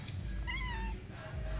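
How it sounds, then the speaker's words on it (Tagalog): A stray cat gives a single clear meow close by, rising and falling over a low background rumble. "Alam mo ba na stray cat ito?"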